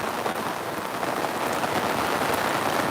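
Heavy torrential rain pours steadily over flooded farm fields, a dense hiss of drops drumming on surfaces with no breaks, loud and close throughout.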